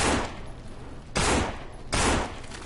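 Handgun shots fired at zombies in the game No More Room in Hell: two sharp, loud bursts roughly three quarters of a second apart, over a steady noisy background with no talk.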